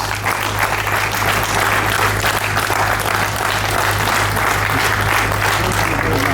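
Sustained applause from a large audience for someone speaker at a policy event, steady dense clapping filling the whole stretch at close range, with a low steady hum beneath and no clear talk.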